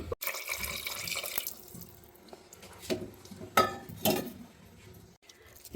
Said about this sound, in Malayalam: ഇനി ഇതിലേക്ക് ഒരു അരക്കപ്പ് വെള്ളമാണ് ഒഴിക്കുന്നത്